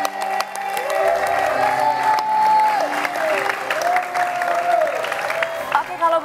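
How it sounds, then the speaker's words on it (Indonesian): A studio audience claps for a contestant named Edo on the Indonesian dating show Take Me Out, steady applause with a musical tone underneath. "Boleh kita berikan tepuk tangan untuk Edo"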